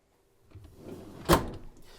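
A travel trailer's 12-volt fridge freezer drawer slides out with a short rumble, ending in one sharp close-up knock or clunk near the middle, then a brief fading rattle.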